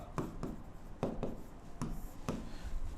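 Chalk or a marker scratches across a board as someone handwrites in Marathi, making short rhythmic strokes and taps, close and fairly quiet, with no one speaking.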